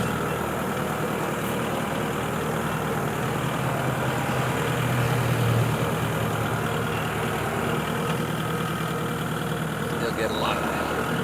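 A tractor engine runs steadily while driving over bumpy ground with a full water tank on the back, producing a continuous low, even drone at close range throughout.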